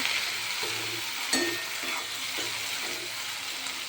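Potato vegetable bhaji steam-cooks in a pan with a little added water for a Bhogi dish, a soft bubbling sizzle with a few stirring clinks.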